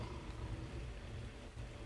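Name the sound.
rain in the video game Ark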